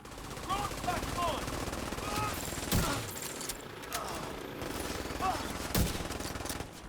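Bursts of gunfire in a shooting video game, fairly faint machine-gun rattles and single shots scattered over a busy mix, with a few sharp louder cracks and some talk in the background.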